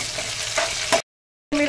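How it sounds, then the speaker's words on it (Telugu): Curry leaves drop into hot oil for biryani, giving a dense crackling sizzle that flares briefly, then cuts to silence for half a second before frying resumes with a sharper hiss. "తగినంత ఆయిల్ వేసేసుకొని ఆయిల్ హీట్ అయ్యాక కొంచెం కరివేపాకు వేసుకుందాం."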